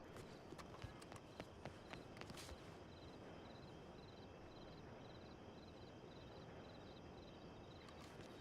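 Horse hooves clip-clop steadily in a western roleplay video game, a soft continuous patter of footfalls under a faint ambient bed, with a few sharper knocks early on and no talking.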